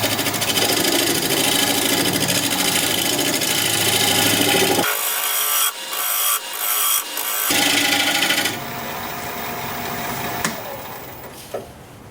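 A wood-turning lathe spins as a tool cleans up the edge of a turned piece, giving a loud, steady scraping and rasping over a motor hum, broken by a few brief pauses and catches midway.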